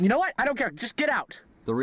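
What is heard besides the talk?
No everyday noises stand out.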